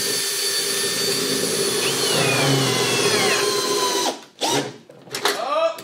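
A RIDGID hammer drill whines loudly and steadily as it drives a fastener, then cuts out abruptly after about four seconds, followed by brief spin-ups and voices.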